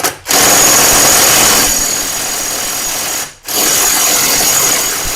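A Yato impact wrench runs in two long, loud bursts while trying to loosen a stubborn wheel nut, its high whine briefly cutting out between them.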